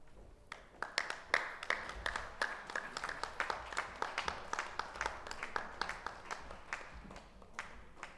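Applause at a transgender awards ceremony: a crowd claps steadily for several seconds, faint and distant, with scattered louder individual claps and a little voice in the background.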